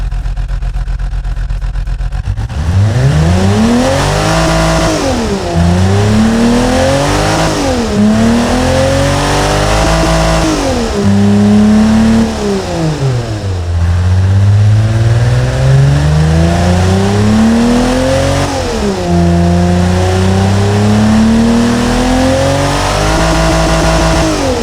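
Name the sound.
BMW S50B30US engine revving in Automation video game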